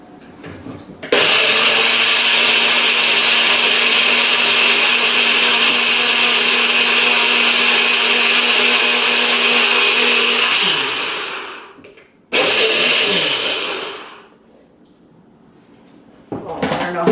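An electric blender mixes a smoothie, roaring steadily for about ten seconds, winding down, whirring again in a short burst, then starting up once more, loud and close.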